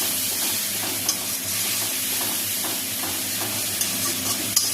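Ground spice paste stir-fries in hot oil after ginger and garlic, giving a steady close sizzle with soft scraping stirs that continue evenly throughout.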